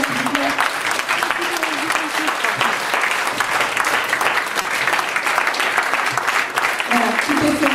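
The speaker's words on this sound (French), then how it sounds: "les applaudissements pour ça encore, s'il vous plaît" Loud, dense applause from an audience at a colloquium after a show, continuous clapping throughout with voices and cheering mixed in.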